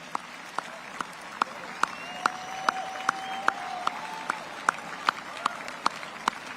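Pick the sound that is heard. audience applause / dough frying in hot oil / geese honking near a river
audience applause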